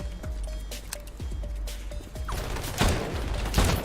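Video game gunfire in a heist with construction workers, a run of sharp shots and thuds, then louder crashing bursts of fire near the end, close and loud.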